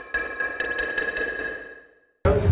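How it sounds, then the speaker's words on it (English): Gated reverb from the u-he Twangström spring reverb plugin: a bright ringing tone with a few sharp metallic plinks decays smoothly, then cuts off abruptly to silence before a loud new burst starts. "So we have like gated reverb."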